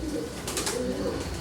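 A Jacobin ornamental pigeon coos softly and close, a low burbling call rolling over a steady background hiss for about a second and a half.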